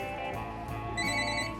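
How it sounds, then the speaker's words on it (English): A telephone bell rings steadily, with a bright, continuous metallic trill at moderate volume that grows slightly brighter partway through, alone without any voices. "Hey, let me get the phone."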